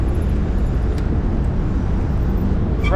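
Broad, steady roar of city traffic at a busy Buenos Aires road junction, engines and tyres blending into a constant wash with a faint high whine near the end and no clear talk.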